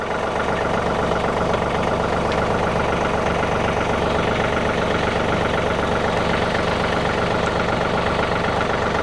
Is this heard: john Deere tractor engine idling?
yes